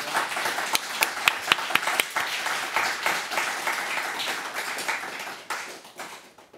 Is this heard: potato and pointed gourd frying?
no